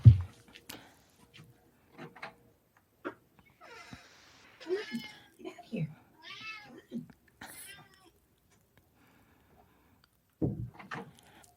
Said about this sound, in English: We totally got your cat meowing.